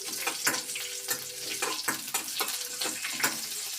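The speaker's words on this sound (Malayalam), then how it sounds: "അടുത്തതായിട്ട് വെളുത്തുള്ളി, ഇഞ്ചി, കരിയാപ്പില ഇട്ടൊന്ന് മൂപ്പിക്കുകയാണ്." Garlic, ginger and curry leaves sizzling in hot oil, a steady frying hiss broken by the regular scrape and clatter of stirring, close and clear with no talk.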